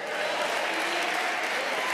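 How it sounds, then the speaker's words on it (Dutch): Steady applause from a crowd cheering for women, a continuous wash of clapping with no pauses throughout. "geef onze zusters een applaus"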